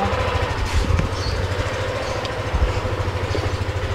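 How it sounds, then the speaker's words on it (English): A new motorbike's engine runs close by as it is ridden, a steady low putter with slight throttle swells over a few seconds. "We have a new bike. Alright, I'm just gonna ride it now."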